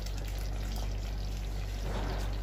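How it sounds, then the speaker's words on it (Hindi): Lemon juice poured into chicken korma, a steady liquid pour close up that runs continuously over a low hum throughout. "ये मैंने 1 नींबू का जूस लिया है, अब ये ऐड कर लेंगे इसमें।"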